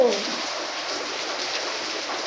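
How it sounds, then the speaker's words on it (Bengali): Steady rain pouring down, a continuous close hiss of drops on surfaces, with a brief voice at the very start. "বৃষ্টি পড়ছে তো।"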